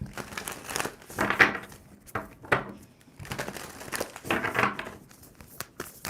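A deck of tarot cards is shuffled by hand, giving bursts of crisp papery riffling and crinkling in separate rounds with short pauses between them. The sound is close and fairly quiet.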